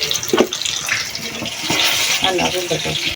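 Bean (borboti) pakoras fry in hot oil with a loud, steady sizzling hiss and crackle, close up, while someone talks over it.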